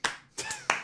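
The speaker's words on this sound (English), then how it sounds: "Let's give Coach Brewer a hand, everybody." Three sharp, separate hand claps ring out close and fairly quiet, with an uneven pause between them and a short decay after each.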